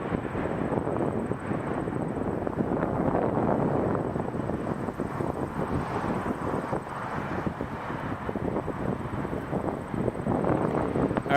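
A Scandinavian Airlines Airbus A321neo at Toronto Pearson airport produces a steady, fairly distant rumble of engine noise, mixed with gusty wind buffeting the microphone.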